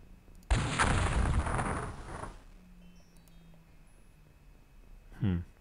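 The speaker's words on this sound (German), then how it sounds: "Wir schießen da jetzt drauf. Geht ein gezielter Schuss." An aimed gunshot in the video game X-Com sounds as a single loud, noisy blast that decays over about two seconds, followed by quieter game tones and a brief electronic chirp.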